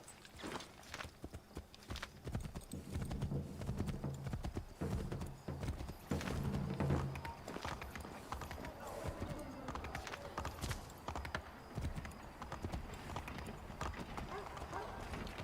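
Steady rhythmic clip-clop of horse hooves trotting continuously, mid-distance, with a faint murmur of voices beneath, in the video game Assassin's Creed III, in Boston.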